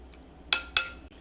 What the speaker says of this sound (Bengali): খুব সামান্য লবণ, আর দিয়ে দেব 2 চামচ ঘি। খুব ভালোভাবে মিশিয়ে নেব।